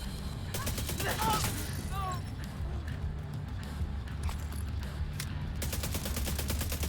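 Rapid SMG gunfire in The Division 2 video game, several loud sustained bursts of automatic fire with a pause in the middle, over game action and a player's voice.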